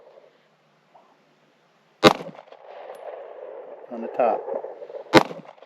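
A rifle fitted with a red dot sight fires two loud, sharp gunshots a few seconds apart during outdoor target shooting, with people talking quietly between the shots.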